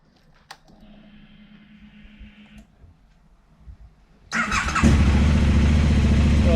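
A KTM 990 motorcycle engine, its clutch just worked on, cranks and catches, then settles into a loud, steady idle after a few seconds of quiet clicking and rattling.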